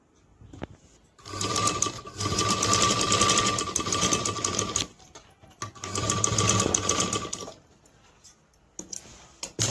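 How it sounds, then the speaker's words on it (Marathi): A sewing machine runs a straight seam along a handbag's lining fabric in two long bursts of steady, close whirring stitching, with a short pause between and a brief start near the end. "याच्यावर हे अस्तर ठेवलंय आणि अशी स्ट्रेट शिलाई करून घ्यायची आहे"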